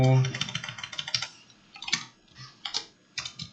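Computer keyboard keys tapped in short irregular bursts, with an Enter press, close and moderately loud, with a brief low voice at the start.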